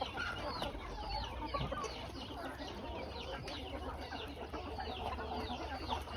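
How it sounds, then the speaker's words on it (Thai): Many chickens cluck and chatter together in a busy, continuous flock noise, with a constant background hum and no clear talking. "มีไก่เพิ่มขึ้นมาค่อนข้างจะเยอะเลยนะครับ"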